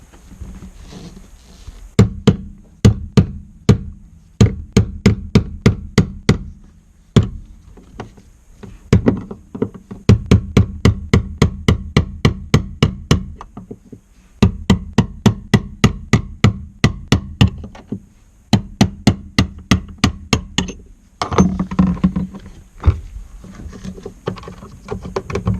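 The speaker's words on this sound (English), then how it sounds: "we need to hammer off the ring that retains it all in the top of the tank" Sharp metallic hammer strikes in rapid bursts on an Audi 80 fuel tank's retaining ring, ringing and clanging, with brief pauses between series of quick blows, close and loud.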